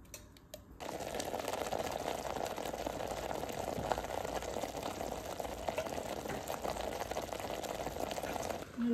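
Ginger-garlic paste sizzles and fries steadily in a hot pan for a Telugu paneer handi curry, a continuous close bubbling hiss with no talk over it.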